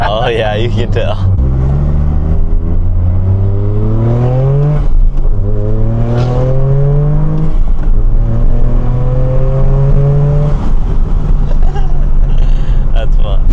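Toyota GR Corolla with a K&N aftermarket intake revving repeatedly, each pull rising in pitch, loud and close with some wind noise as people talk excitedly under the engine.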